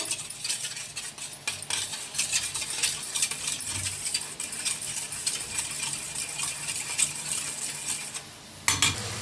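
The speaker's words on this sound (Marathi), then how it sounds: "अंडे फोडून घेतले ते जरा असं मिक्स करून घेऊया" Cracked eggs beaten in a bowl with a utensil, a continuous close rattle of metal scraping and clinking against the dish for about eight seconds, ending in a brief knock, with no voices.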